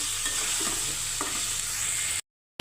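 Goat meat curry being stirred in a pan, a continuous close sizzle with a few spoon scrapes and knocks, ending abruptly in silence.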